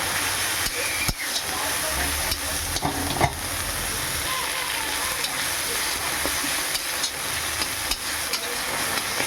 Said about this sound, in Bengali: কিছুক্ষণ নাড়তে থাকবো। তারপর টমেটো দিয়ে দিয়েছি।